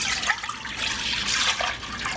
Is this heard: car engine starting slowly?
no